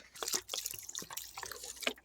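Water trickles and drips from a pour into a rail planter box on an outdoor deck, a light uneven splashing with occasional sharper drops, fairly close and quiet.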